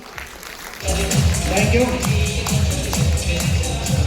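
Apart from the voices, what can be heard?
audience applause at a seminar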